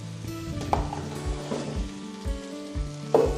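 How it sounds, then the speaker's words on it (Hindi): Peas dropped into vegetables frying in a pan for a vegetable korma: steady sizzling with a few soft clattering impacts and stirring sounds, close, no talking. "अब इसके अंदर मटर डाल देंगे।"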